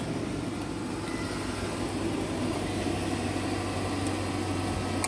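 A 2015 Nissan NV200 cargo van engine idles steadily nearby, a low, even rumble with a faint hum and no other sounds.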